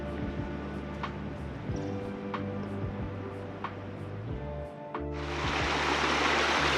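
McCormick's Creek in Indiana flowing where a trail crosses it, a steady water rush with a few faint ticks, rising into a louder, brighter wash near the end.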